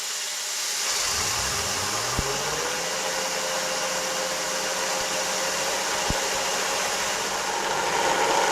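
A micro hydro turbine generator on a 48-volt battery system spins up: a loud, steady whirring roar rises in pitch over the first couple of seconds, then holds a constant whine with a couple of brief clicks.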